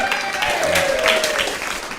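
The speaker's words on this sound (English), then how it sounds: "Cheer for Sandra." An audience at a spirit seekers evening applauds and cheers for Sandra Stevenson, with dense continuous clapping and a few voices calling out.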